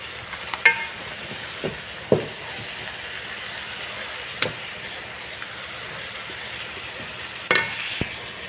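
Mutton frying with spices and a vegetable Maggi cube, a soft steady sizzle in the pan broken by occasional sharp clinks and scrapes of a spoon stirring.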